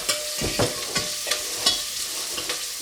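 Red onion sweating in a pan for sambar, a soft sizzle punctuated by rhythmic stirring strokes about every half second, close and alone.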